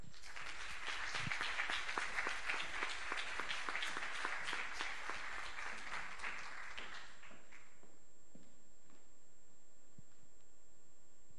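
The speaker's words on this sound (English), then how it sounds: "Big applause for them." Audience applause at the CPCRetroDev 2018 awards ceremony, a dense burst of clapping lasting about seven seconds before fading out to a quiet room.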